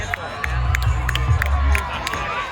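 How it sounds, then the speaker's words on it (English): A rodeo crowd in Alice Springs cheers wildly, with loud whoops, shouts and excited voices over a rumbling background of low engine or wind noise, plus sharp repeated clacks punctuating the din. "The crowd are going kind of wild."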